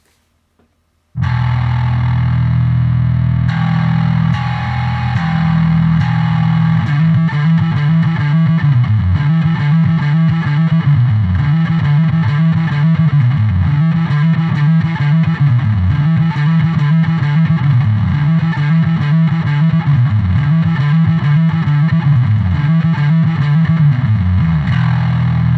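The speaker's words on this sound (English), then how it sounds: "I'm just going to play a popular bass distorter riff for you" A heavily distorted bass guitar plays a looping, rhythmic riff, loud and gritty, repeating the same pattern over and over with no talking.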